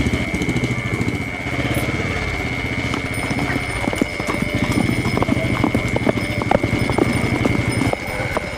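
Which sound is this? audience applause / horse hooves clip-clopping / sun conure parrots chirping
horse hooves clip-clopping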